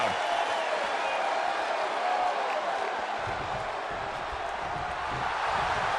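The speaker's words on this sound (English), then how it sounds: "Randy Orton feeding off this electric crowd." Arena crowd in the WWE 2K23 wrestling game during an Edge vs. Randy Orton World Heavyweight Championship match, a dense, steady roar of cheering that stays loud and even throughout.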